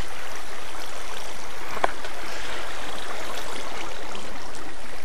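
Steady rushing flow of water in a Minecraft game with the TFC Modcraft mod, a constant close wash of sound with no talk and one faint click partway through.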